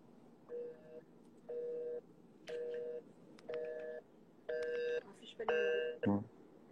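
Telephone keypad tones dial a call, a string of about seven distinct beeps in an even rhythm, clear and close, ending in a short burst.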